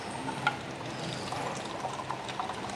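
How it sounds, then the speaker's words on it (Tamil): An electric pump draws water from a 25-litre can, giving a soft, steady stream of pouring water with faint trickles and drips, quiet and close. "இப்போ பாருங்கள் இந்த தண்ணி பிடிக்கணும்னா இதை ஆன் பண்ணுறேன்."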